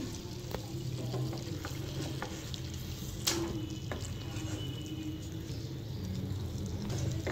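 Chicken leg pieces fry in a pan with a steady close sizzle and crackle, broken now and then by light clinks and a sharper tap, and no one speaks.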